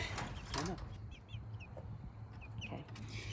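Soft clucking from several free-range chickens, including Barred Rocks and roosters on a farm, with short chirpy calls scattered over a low, steady background hum.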